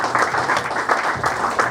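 Audience applause at an evening gathering, a dense, steady wash of many hands clapping close by with faint voices mixed in.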